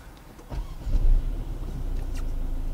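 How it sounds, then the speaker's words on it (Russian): An Infiniti Q50's engine cranks and fires up close by, with a brief surge that settles into a steady low idle hum. "Давайте сейчас я заведу мотор"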